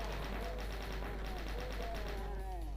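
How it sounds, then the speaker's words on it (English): Rapid, steady bursts of chain gun fire from The Ultimate DOOM run continuously through the whole stretch, layered over the game's music and effects. "And chain gun."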